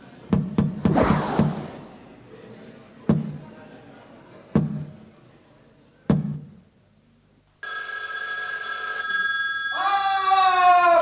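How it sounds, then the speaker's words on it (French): A small telephone rings on a theatre stage during a comedy play. A few sharp knocks and thuds come first, then a steady, loud electronic ring fills the last few seconds. "Personne ne répondra donc à ce petit téléphone."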